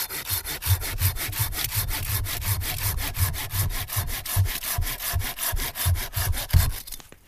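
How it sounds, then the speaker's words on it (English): Hand saw cutting through wood outdoors beside a campfire, trimming crooked ends off a piece: steady, rhythmic back-and-forth rasping strokes, close and loud, running continuously for several seconds before stopping. "I'm going to trim the crooked parts off here."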